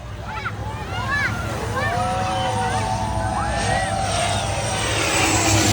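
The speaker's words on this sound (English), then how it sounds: "Oh, here comes an airplane." A low-flying airliner passes over Maho Beach on St Maarten with a loud, broad roar that builds and holds. People on the beach talk and shout over it.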